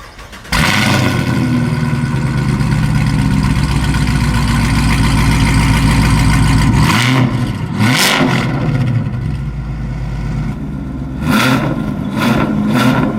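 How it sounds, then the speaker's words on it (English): A Camaro fitted with Corsa Extreme and Kooks exhaust fires up and settles into a loud, deep, steady rumble, then gets blipped in a few sharp revs that swell and fall, close and alone with no talk. "Chan finished helping me out, so he's gonna start up the car."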